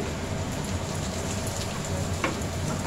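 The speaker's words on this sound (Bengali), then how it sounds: "পেঁয়াজটা ভাজা হয়ে এসছে" Chopped onions frying in hot oil in a pan, a steady close crackling sizzle like rain on a surface that runs through the whole moment, with one sharper pop near the end.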